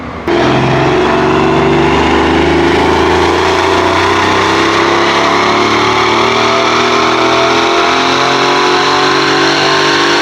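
A twin-turbo Mercedes M278 V8 from a CLS550 or E550 on a dyno run, loud and close, roars up through a long sustained rev, its pitch climbing steadily for about ten seconds with no talk over it.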